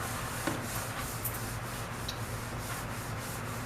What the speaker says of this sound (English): Now I'm going to wipe down the surface for the next 3 minutes.